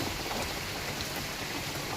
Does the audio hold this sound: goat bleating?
no